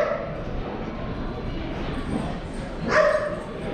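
A dog lets out a single sharp bark near the end, heard over steady background noise and people talking nearby.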